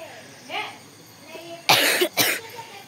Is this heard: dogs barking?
no